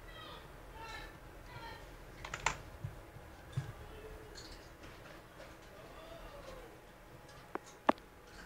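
Quiet typing on a computer keyboard while entering a Roblox Arsenal code, scattered soft key clicks with a few sharper taps, faint and close against low background noise.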